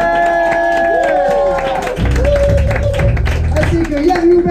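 A jazz jam audience in a cellar club claps and cheers for a drummer, a dense wash of applause that follows a voice over music and swells as low instrument notes come in.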